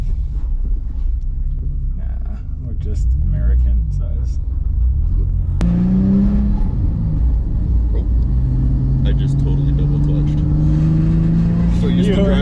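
A small drift car is being driven, its engine rumbling low and steady with rising revs and tonal whine building partway through, up close, while people talk over it.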